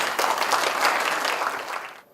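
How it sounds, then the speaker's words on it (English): Audience applause at an Indonesia Shariah Economic event in Jakarta, welcoming the executive director of Bank Indonesia to the stage; a dense, steady wash of clapping from a large crowd that tapers off and stops near the end. "Once again, give a big applause for Mr. Suhaidi"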